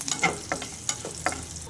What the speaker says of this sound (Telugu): ఈ తాలింపు గింజలను ఒక 2-3 సెకండ్స్ పాటు ఫ్రై చేసుకుందామండి